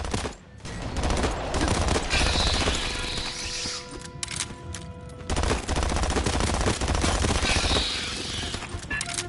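Sustained automatic gunfire rattles in Aliens Fireteam Elite, two long loud bursts of rapid shots separated by a brief lull, close and dominant over faint game tones.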